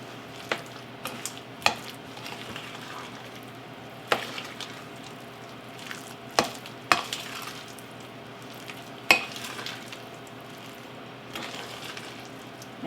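Finely chopped apples are folded into muffin batter in a bowl, soft continuous wet mixing with sharp spoon taps against the bowl every second or two, quiet and close, no talking.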